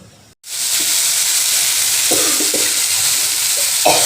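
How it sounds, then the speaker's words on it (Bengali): Fish sautéing in spiced masala in a pan, a loud continuous sizzle starting abruptly, with intermittent spatula scrapes and knocks against the pan. "মশলাটা কষানো হয়ে গেছে মাছ দিয়ে মাছগুলো দিয়ে আজকে কষিয়ে নিচ্ছি"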